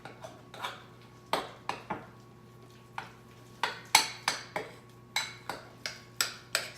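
Super fine almond flour, baking powder and salt are mixed in a bowl for keto cinnamon roll dough, a spoon tapping and clinking against the bowl in a quick, uneven rhythm of sharp close clicks.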